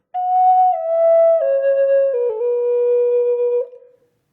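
A Native American flute plays a short run of grace-note figures descending step by step through several sustained target notes, clear and close, ending with a soft fade.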